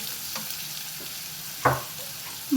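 Sliced onions sautéing in a pan until brown, a soft continuous sizzle with a couple of brief scrapes from the stirring spoon near the end, no voices.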